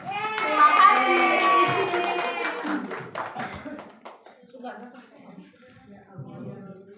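An audience at an Indonesian dissemination session claps for a few seconds under a presenter's voice, then the applause thins out as talking continues.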